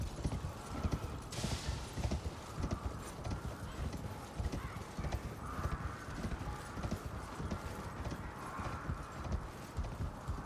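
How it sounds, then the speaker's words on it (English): Steady, rapid clip-clop of horse hooves galloping in Elden Ring, looping continuously at close range over a busy game soundscape, with faint voices in the background. "Someone's horse is just running in place right here."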